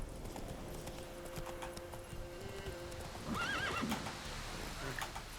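Roach, the horse in the Witcher 3 video game, gallops with rapid rhythmic hoofbeats under a soft ambient drone, then lets out a clear, wavering neigh near the middle before the clip-clop continues.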